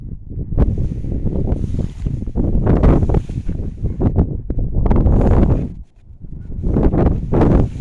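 Strong gusting wind roars during a wind storm, buffeting the microphone in loud surging waves that briefly drop off before building again.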